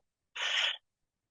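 Bird-deterrent loudspeaker rated at 114 decibels gives a single short harsh screech-like burst, about half a second long, with silence before and after.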